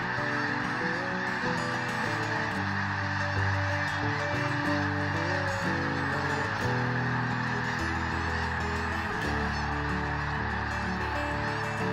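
A dense flock of migrating snow geese honks in a continuous overlapping chorus, loud and steady throughout with no talking.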